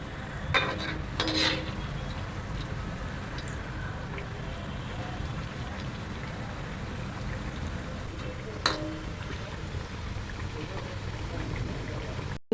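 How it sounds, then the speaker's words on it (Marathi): Alu vadi frying over medium-high flame in a pan, a steady bubbling sizzle throughout, with a few brief clanks of a spatula flipping the pieces; a voice talks over it. "मीडियम टू हाय फ्लेममध्ये अळूवड्या फ्राय करायच्या आहेत आता आपण हे पलटी करूया"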